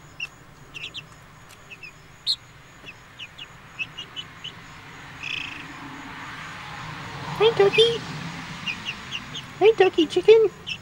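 Soft clucks and chirpy calls from young chicks, scattered at first and then clustering toward the end, with a person briefly speaking.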